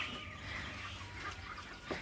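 Chickens on a farm cluck softly in the background, a low continuous flock murmur with occasional sharper calls, fairly faint.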